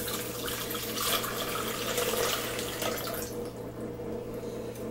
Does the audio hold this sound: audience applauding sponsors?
no